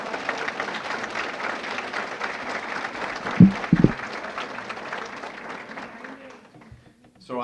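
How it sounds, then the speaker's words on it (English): An awards banquet audience for school honorees applauds in a room, steady crowd clapping that tapers off toward the end, with brief louder knocks and a voice starting just afterward. "Maybe we'll get a round of applause here"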